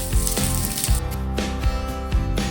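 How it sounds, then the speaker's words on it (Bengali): Eggplant pieces frying in hot oil give a loud, continuous sizzle with repeated crackling bursts throughout. "বেগুনটাকে একটু ভেজে নিচ্ছি লাল করে।"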